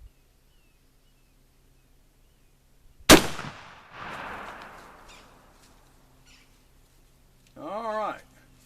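A single sharp, loud shot from a Remington Genesis .50 caliber muzzleloading rifle with a 209 primer, fired outdoors at about 15 yards, followed by a rolling echo and later a short voice.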